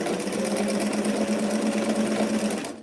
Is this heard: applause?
no